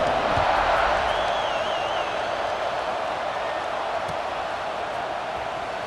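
A stadium crowd in the EA Sports College Football 26 video game roars steadily as a broad, sustained wash of cheering, with a brief whistle-like whoop rising above it and no clear speech.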